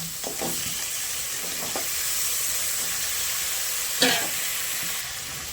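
Chopped potatoes with onion fry in oil, giving a loud, steady sizzle and hiss throughout, with a few light scrapes of stirring and one sharper clatter near the end.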